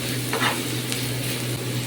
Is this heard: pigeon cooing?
no